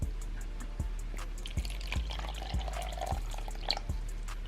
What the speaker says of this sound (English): let's go ahead and water her